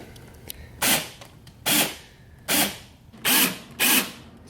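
A power drill bores into a beer tap handle in five short bursts, each a loud, whining rise and fall with brief quiet gaps between, no talking.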